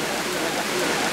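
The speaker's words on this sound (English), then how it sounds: "It's raining pretty hard." Heavy rain pours down outdoors at an event, making a dense, steady hiss with no gaps over the short stretch.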